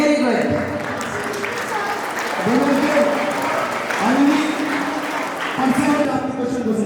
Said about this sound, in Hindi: अपने लिए तालियां बजा दे